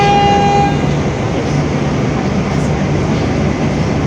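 A loud, steady rumble of an Indonesian KRL commuter train in motion heard from inside, with a brief whistle-like tone fading at the start and constant rolling noise throughout.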